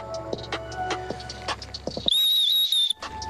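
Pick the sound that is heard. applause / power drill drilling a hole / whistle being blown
whistle being blown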